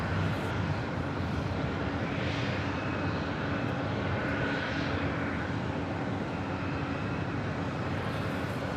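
Steady broadband roar of an Airbus A350-900 jet airliner taxiing at Los Angeles International Airport, loud and continuous throughout with faint rising engine tones, no voices.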